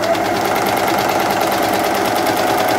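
An overlocker runs a chain of stitches off the fabric with a steady, loud, close mechanical whir and rapid knocking that never lets up, and no one speaks.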